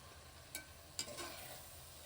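Mint leaves being stirred into mushroom biryani masala in a pot: faint scraping and stirring over a soft sizzle, with two brief clinks of a spoon against the pot.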